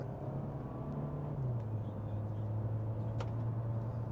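A Mercedes A-Class AMG accelerates steadily while merging, its engine drone rising in pitch, then holding as a smooth continuous hum under road noise throughout.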